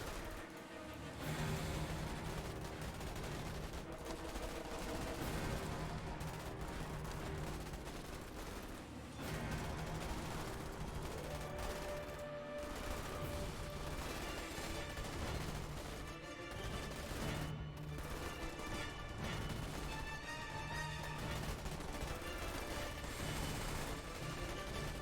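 Gunfire in the sci-fi strategy game Starship Troopers Terran Command crackles in constant dense volleys under a busy battle mix, with scattered louder bursts and impacts throughout.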